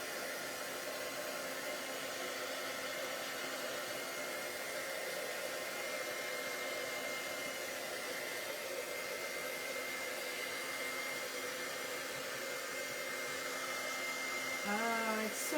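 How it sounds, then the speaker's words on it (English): A heat tool blows steadily to dry a card mask, a constant whooshing hiss that runs unbroken for the whole stretch, close by and even in level, with a faint bump at the very end. "I'm going to pull out my heat tool."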